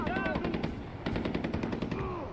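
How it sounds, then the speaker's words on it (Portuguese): Rapid machine-gun bursts crackle in a Far Cry 4 firefight near a radio tower, dense automatic fire in two volleys, loud and close, with no clear speech over it. "Do nada começa uma troca de tiro aqui."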